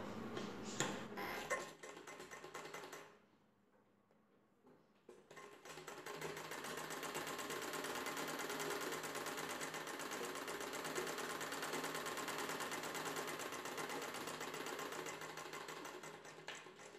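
A sewing machine stitches a blouse in a steady, fast mechanical whir and ticking that runs on for several seconds, pauses briefly, then resumes, heard close with no voices.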